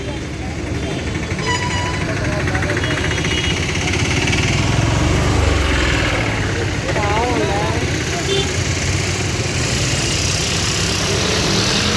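A motorboat engine on a lake runs loud and steady throughout, a continuous close drone with faint voices mixed beneath it.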